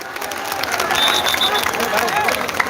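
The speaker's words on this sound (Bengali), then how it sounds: "আমরা একটু জোরে করতালি দিয়ে তাকে স্বাগত জানাই।" Audience clapping to welcome the minister at a formal event, a steady wash of applause mixed with crowd murmur and speech noise throughout.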